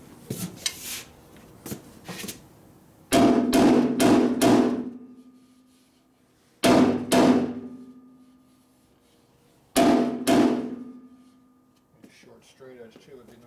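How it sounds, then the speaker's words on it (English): A hammer knocks down a high spot on a metal part: a few light taps, then a quick burst of four ringing blows, a pair of strikes, and a final pair, each with a clear metallic ring fading out. "This is the high spot. Alright. Let me use my hammer."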